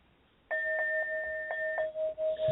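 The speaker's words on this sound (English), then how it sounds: "I'm going to ring my bell." A small bell is struck several times in a quick, uneven series, each ding ringing with a clear sustained tone close up, the last strike left to decay before a soft rustle.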